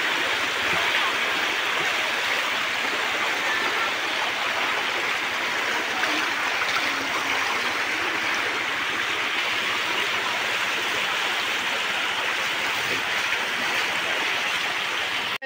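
Water rushes over the San Luis spillway in a loud, steady, broadband roar that fills the whole stretch without letup.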